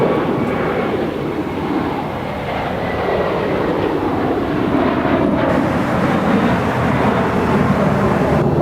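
An airliner takes off from runway 25 right at Los Angeles International Airport, its engines giving a loud, steady roar that holds throughout with no talk over it.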